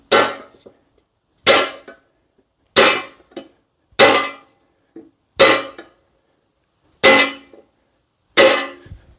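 A hammer strikes a Pittsburgh punch against a jack stand tab. Eight sharp metallic blows ring out at a slow, even pace, each followed by a short decay and silence.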